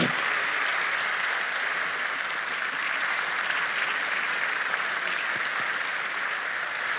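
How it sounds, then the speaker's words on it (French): Loud, sustained applause from a large crowd at the Africa Cup of Nations 2017 draw ceremony in Gabon, steady and dense throughout with no pauses. "On applaudit très fort."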